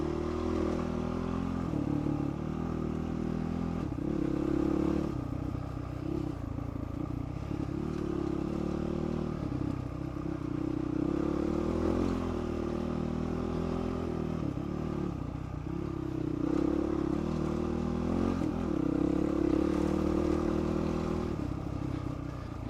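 A motorcycle ridden in first gear along a slippery forest trail in the Paluma Range, its engine droning steadily up close with gentle rises and dips in revs and light clatter, no voices.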